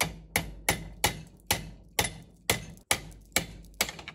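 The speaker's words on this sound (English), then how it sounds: "I will continue chiseling that outer ring of the carrier out" Steady hammer-driven chisel strikes cutting out the carrier ring of a Mercruiser Alpha outdrive lower unit, about ten sharp, loud, evenly paced metallic blows, close up.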